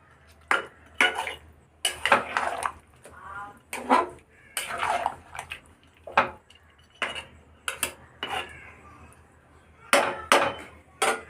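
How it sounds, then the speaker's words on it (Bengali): Spiced meat for kosha mangsho is stirred in a cooking pot, with repeated scraping and clanking of a utensil against the metal in irregular bursts separated by short pauses. "ভালো করে নাড়িয়ে নেবেন যাতে মশলাগুলো প্রত্যেকটা মাংসের মধ্যে"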